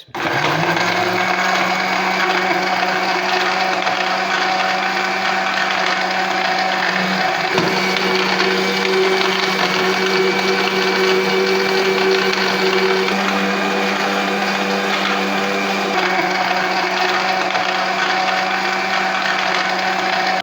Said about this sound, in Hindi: तो अब हम अपने ब्लेंडर चलाएंगे।